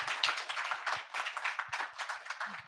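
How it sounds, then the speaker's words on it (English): A small club audience claps for a guest speaker, scattered and fairly faint hand claps in an uneven rhythm, with no one speaking. "Give him a round of applause."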